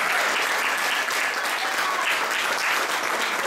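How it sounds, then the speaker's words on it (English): An audience at a live band show applauds the barista Cassandra, a steady, dense wash of clapping that holds evenly from start to finish with no voices over it. "give Cassandra a round of applause"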